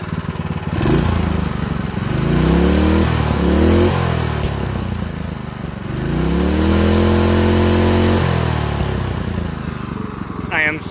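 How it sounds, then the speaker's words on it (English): A vintage mini bike's small engine idles and revs in uneven surges, its pitch rising and falling between bursts, loud and close with a rough, buzzy tone. "Here's the engine idling."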